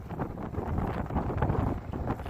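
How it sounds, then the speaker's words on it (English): Wind buffets the microphone in steady low rumbling gusts outdoors, with a constant blustery roar and no voices. "It's windy out here."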